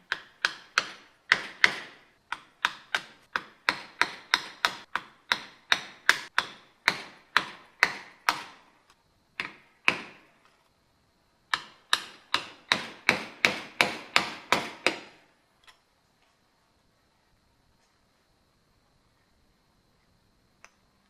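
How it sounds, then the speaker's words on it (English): Sharp metallic taps and knocks in quick irregular bursts as parts are pried off a BMW E30 325i with a hammer and screwdriver, close by, pausing briefly then resuming before trailing off into quiet with a last stray tap. "I pried them off with a hammer and screwdriver"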